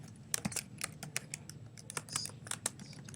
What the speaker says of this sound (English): So I can type text